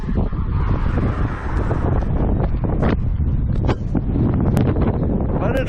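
Strong wind buffets the microphone beside a lake lined with canals and docks, a steady roaring rush with gusty bursts throughout, loud and close.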